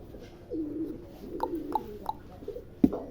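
Fancy pigeons with feathered feet coo softly at a pigeon farm, a few short close-up calls over quiet background noise, ending with a sharper louder note.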